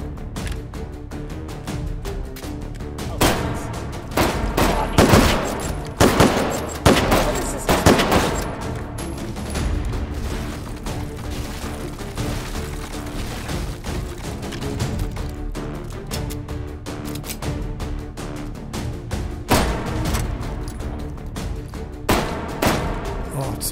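Gunfire in the VR shooter Hot Dogs, Horseshoes & Hand Grenades, dense bursts of shots and rapid automatic fire, loud and close, continuing throughout with a few heavier clusters.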